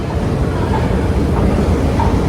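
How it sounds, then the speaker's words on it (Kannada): An underground metro train in a subway station in Chongqing, China, produces a loud, steady, broadband rumble that fills the space without pause. "ಮೆಟ್ರೋ ಇದು ಅಂಡರ್ ಗ್ರೌಂಡ್ ಸಬ್ವೆ"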